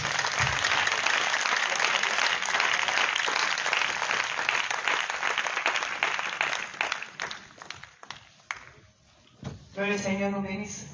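A church congregation breaks into loud, sustained applause that fills the room for several seconds, then thins into scattered claps before a short final burst with a voice over it.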